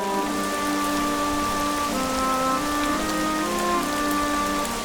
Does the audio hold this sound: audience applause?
no